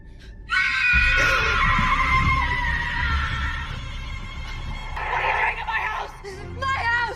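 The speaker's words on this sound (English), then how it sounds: "The electrical stuff and a screaming woman running." A woman screams in the horror film Malignant, a long, loud, sustained shriek that begins abruptly and carries over an eerie rumbling score, then ends in shorter cries.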